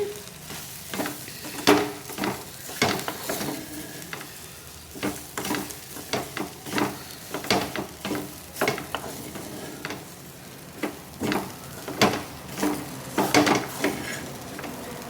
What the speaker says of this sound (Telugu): వేసుకొని ఇలా తిప్పుకుంటూ ఫ్రై చేసుకోవాలి.